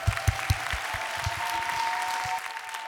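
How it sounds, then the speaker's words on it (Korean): Applause at a Thursday-night church worship gathering, a crowd clapping in quick, uneven bursts at moderate volume that settle into a steady wash of hands and fade after a few seconds. "우리 하나님께 큰 영광의 박수 올려드립니다."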